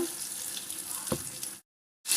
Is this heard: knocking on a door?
no